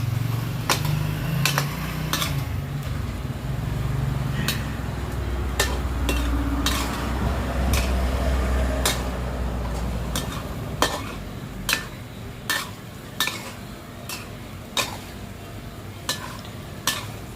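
Thai curry paste stir-fried by hand in a pan, home style, giving a steady low sizzle with scraping and a run of sharp metallic clanks of a spatula against the pan, spaced regularly toward the end.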